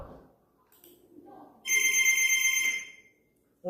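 Coded alien telepathy sound effect built in a kids' coding lesson, closely resembling a telephone ringing: one loud electronic ring burst of about a second and a half, alone after brief faint background talk.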